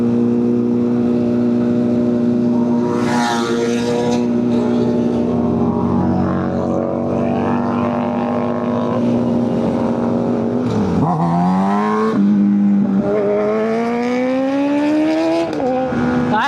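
A group of superbikes on a 15 August freedom ride revs hard and roars past, with rising and falling engine pitches that shift and overlap. It is loud and continuous throughout, with no voices.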